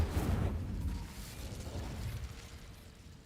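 An Incendio fire spell cast in Hogwarts Legacy: a soft whooshing burst of flame that flares at once and then fades into a low roar over a few seconds, heard alone.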